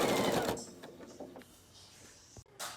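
A sewing machine stitches a quarter-inch seam joining quilt rows, a short burst of fast whirring needle action followed by softer handling clicks and fabric rustle.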